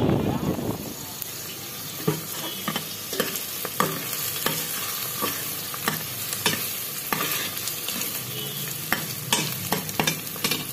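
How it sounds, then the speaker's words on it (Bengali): Frozen marinated chicken frying in a pan, a steady sizzle with repeated scraping stir strokes and utensil clicks throughout, close and fairly loud. "ফ্রোজেন করা ফ্রাই চিকেন সব কিছু মাখিয়ে ফ্রোজেন করে রেখেছিলাম, ওখান থেকে ভাজতে দিলাম"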